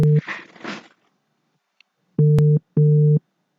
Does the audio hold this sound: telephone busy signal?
yes